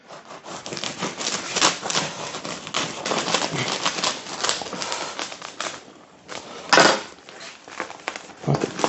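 A knife saws through a sub roll for an Italian beef sandwich, a continuous run of close crackly crust-crunching strokes with a brief lull and then a louder crunch near the end.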